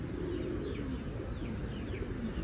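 A young pigeon coos softly amid a dense, steady wash of low background noise, giving a few faint, close-ish calls with no talking.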